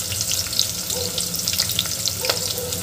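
Onion, curry leaves and chili sautéing in hot oil in a pan for masale bhat, a continuous close sizzle with crackling pops and occasional stirring scrapes.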